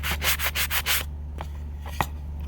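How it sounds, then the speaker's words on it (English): Rapid back-and-forth sandpaper strokes rasp against a small wooden planter, about six quick rubs, then a few softer scrapes and a small knock over a steady low hum. "just by sanding it."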